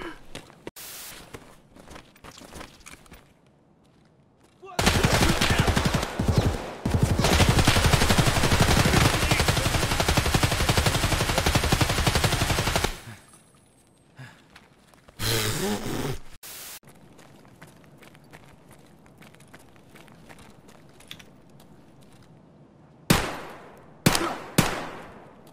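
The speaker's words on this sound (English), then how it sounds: "Is that you shooting?" Gunfire in the video game Escape From Tarkov: a long, loud stretch of rapid automatic shooting lasting several seconds, then a shorter burst and a few sharp closing shots, with no talk.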